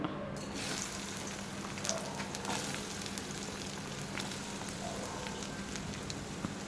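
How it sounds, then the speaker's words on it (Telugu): Amla (Indian gooseberry) pieces fry in a little hot oil in a pan, giving a steady close sizzle with scattered crackles and pops throughout. "వీటన్నిటిని కొంచెం లైట్గా ఫ్రై చేసుకోవాలండి"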